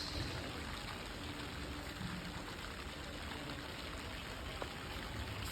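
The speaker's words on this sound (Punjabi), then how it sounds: "ਦੇਖੋ ਬਾਰਿਸ਼" Steady rain heard from a rooftop falls without a break, a dense even hiss of drops over several seconds, with no voices.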